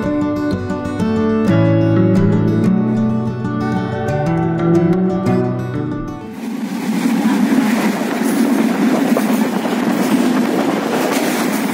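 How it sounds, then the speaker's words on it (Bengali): A train pulls in and runs past at a station in rural Bangladesh on a late afternoon, with a loud, steady rumble that swells and holds in a dense roar after some musical tones fade out. "তার কিছুক্ষণ পরেই অবশ্য ট্রেন চলে এসেছিল।"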